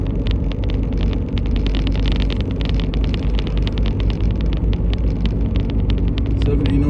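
Inside a moving 2012 Suzuki SX4 AWD with a driveline noise and vibration fault, a constant low rumbling drone with rapid rhythmic ticking runs throughout, loud and steady, while occupants talk.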